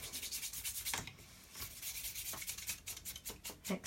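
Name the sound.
rubbing off excess embossing powder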